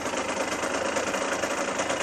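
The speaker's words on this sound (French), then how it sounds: "une moto qui est bridée, les gaz peuvent beaucoup moins sortir" A restricted motorcycle engine with a throttle restrictor fitted runs steadily at a fast, buzzy, even idle, loud and close with a rough mechanical rattle and no voices.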